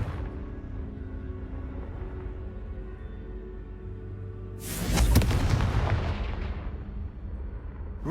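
A Confringo fire spell bursts in Hogwarts Legacy, one booming explosion with a crackling rush that swells and fades over a low ambient hum, no voices.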